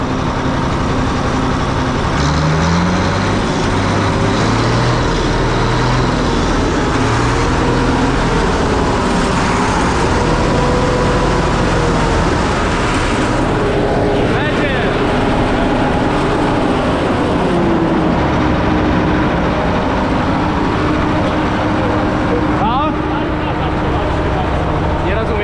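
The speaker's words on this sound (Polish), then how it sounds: "Motor pracuje." A Bizon combine harvester engine runs continuously at a steady idle, loud and close, with a low droning rumble and mechanical clatter that barely changes.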